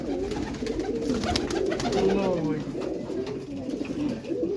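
Large pet pigeons coo in low, rolling phrases at a pigeon sale, steady and close throughout while someone talks over them.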